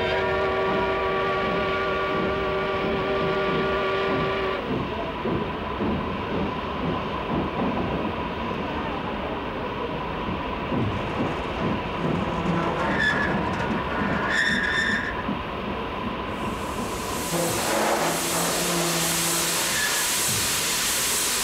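A passenger train rolls along in a steady, continuous rumble, with hissing and clanking carriages, a long whistle-like tone at the start and a brief higher squeal of metal later on.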